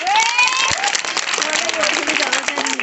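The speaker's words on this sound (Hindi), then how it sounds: "देखो ताली बजाओ इनके लिए" Children clap for a performer at a school magic show, a dense, loud burst of applause that fills the room throughout, with a few voices calling out over the clapping.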